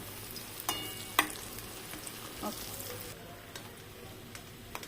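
Raw banana and potato kofta fry in a pan, a soft steady sizzle broken by a few sharp clicks and taps as the pieces are turned.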